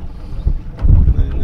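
Wind gusts buffet the microphone on a boat, with low rumbling bursts and water sloshing nearby.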